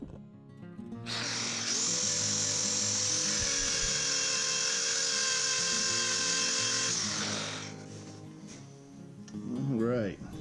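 A wooden bowl spins on a lathe while sandpaper is pressed against it, giving a steady loud whirring hum that holds for several seconds and then winds down.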